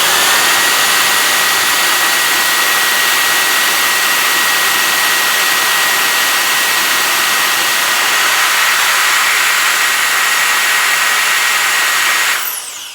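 A Super Power Turbo Fan, a handheld substitute for compressed air cans, runs at high speed with a loud, constant high-pitched whine and a rush of air that holds steady before winding down abruptly at the end.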